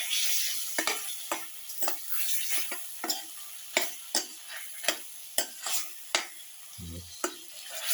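A spoon stirs tomatoes cooking in a chicken casserole. A steady sizzle runs underneath, and sharp scraping knocks against the pot come at a fairly regular rhythm, close and clear. No voices.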